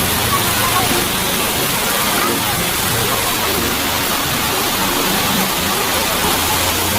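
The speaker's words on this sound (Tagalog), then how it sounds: "Hoy, ulan, undang na." Heavy rain falling at a church, a continuous loud broadband hiss with a splashing, watery texture that stays level throughout, with no voices heard.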